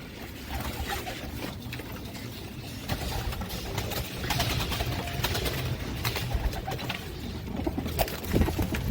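Pigeons coo softly and repeatedly in a close, busy space, with scattered rustling and shuffling around them.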